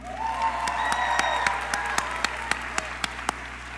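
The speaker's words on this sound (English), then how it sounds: "Let's give our platform guests a round of applause." A high school graduation audience claps for the platform guests, a broad wash of applause that thins out toward the end into a few isolated sharp claps, with a steady low hum underneath.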